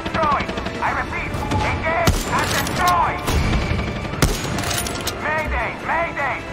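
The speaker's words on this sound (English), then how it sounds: "Check your fire, Danny. You're shooting at friendlies." Rapid automatic gunfire and sharp shots from the Far Cry 6 shooter, bursts rattling steadily throughout with radio-style voices talking over them.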